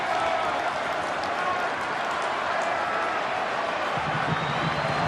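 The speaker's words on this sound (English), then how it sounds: "Buoyed by this boisterous crowd." Boisterous stadium crowd at an A-League semi-final between Adelaide United and Central Coast Mariners, a constant loud wash of cheering and roaring that holds steady throughout, with some lower rumble near the end.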